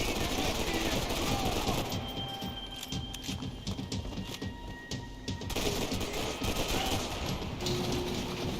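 Rapid bursts of gunfire from a golden gun in Max Payne 3 crackle in quick volleys, with a brief lull midway before the shooting resumes, loud amid game noise.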